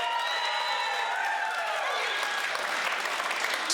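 A crowd applauds and cheers at a 9-ball pool match, a dense, sustained burst of clapping with whoops rising over it as it carries on for several seconds.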